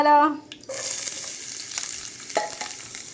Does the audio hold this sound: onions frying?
yes